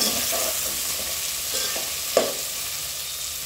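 Vegetables for veg kichidi fry in a pan with steady sizzling and repeated spatula scrapes and stirs, one sharper knock partway through.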